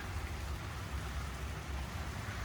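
Steady rain falls outdoors on a humid day, a dense, even wash of patter and hiss that continues unbroken at a constant level, with no voices present.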